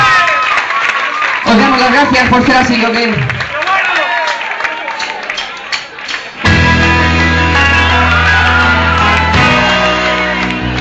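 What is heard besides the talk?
concert audience applause for guest artist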